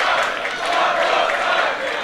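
A wrestling arena crowd cheers and roars steadily for two seconds during a women's match, a dense, loud wash of many voices with no single speaker standing out.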